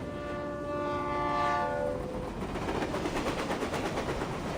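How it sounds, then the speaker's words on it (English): A train horn blares with a strong, sustained tone in the video game Reverse:1999, then fades into a close, rumbling roll of the train moving along the tracks. "And why is the stupid train never on time?"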